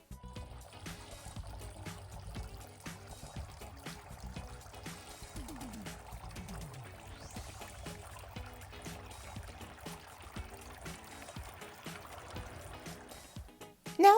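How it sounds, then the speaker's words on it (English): Water trickles and pours steadily into a garden water fountain, a faint, continuous stream running throughout with no pauses. "I'm going to fill up the water fountain"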